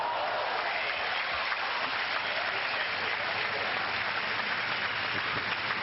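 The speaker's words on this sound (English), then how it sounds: "The crowd you're hearing in the background, live action out here in doubles at the Hamlet." Applause from a live doubles tennis crowd in Long Island, 1991, a steady wash of clapping throughout, moderately distant and even in level, with no nearby talking.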